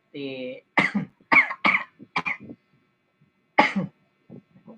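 Several short, sharp coughs come in a quick cluster, then another after a pause, close and fairly loud in an otherwise quiet room.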